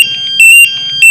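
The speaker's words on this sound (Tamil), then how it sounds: "உங்களுக்கு வந்து அலாரம் அடிச்சுக்கிட்டே தான் இருக்கும்" A portable four-gas monitor sounds its alarm after a high LEL reading, a loud piercing electronic tone that pulses in a fast repeating pattern with short beeping bursts.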